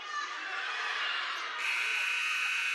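A long electronic buzzer sounds at the end of a girls' high school basketball game, a steady loud tone that continues unbroken through the clip and shifts to a brighter pitch partway, amid a crowd noise background.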